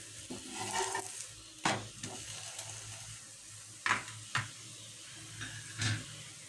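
Vegetables sizzle softly in a pan as a spoon stirs them in several brief scraping bursts, the sounds quiet and close with faint frying hiss between.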